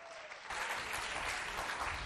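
Children applaud at a school event at an evangelical school in Mao, a quiet patter of clapping that swells into fuller, sustained applause from a crowd after half a second.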